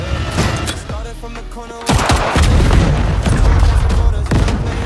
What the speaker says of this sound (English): A massive explosion follows, killing Marcus instantly.